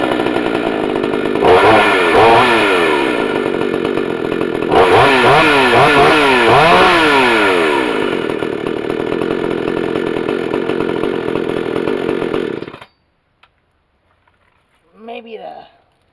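A 52cc chainsaw with a 22 inch bar idles loudly and steadily, revving up twice into wavering high-pitched whines, then cuts off abruptly; a voice speaks briefly afterward.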